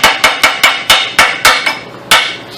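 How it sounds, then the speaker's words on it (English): Sharp metallic chipping hammer strikes ring out close up, about ten evenly spaced blows with a short pause before the last, knocking flakes of rust off a car's metal subframe. "I'm just going to take a chipping hammer too and"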